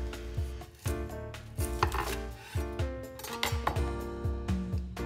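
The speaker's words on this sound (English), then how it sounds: "To start, slice the onion in half." A knife cutting an onion in half on a cutting board during chicken curry prep, giving a few sharp, close chops and knocks with a faint clink between them in a quiet kitchen.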